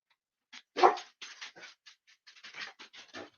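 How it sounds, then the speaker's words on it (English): A dog barks repeatedly indoors, one louder bark followed by a rapid series of shorter, softer barks and yips, fairly close with scratchy overtones. "Now what's he barking at?"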